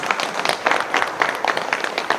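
Loud, dense applause from a crowd cheering a performing team, steady rapid clapping that fills the whole stretch without pause.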